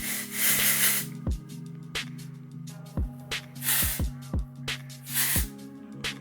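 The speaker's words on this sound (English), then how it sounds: "grab my hair and kind of like let it fall while I spray the product" Several short hissing bursts of an aerosol hair product spray, separated by brief pauses, with soft handling knocks and clicks in between.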